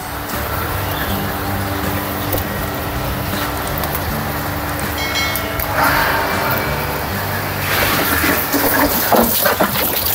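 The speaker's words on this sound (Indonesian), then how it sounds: "Saya nyalakan dulu pompa airnya." A groundwater pump runs to refill a recirculating tilapia farming system, producing a loud, steady rumbling drone with rushing water that swells slightly toward the end.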